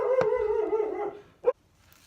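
Small house dogs, including pugs and a rescue dog from Egypt, in a country home give a drawn-out howling bark, followed by a single short yip after a pause. The sounds are close and fairly loud.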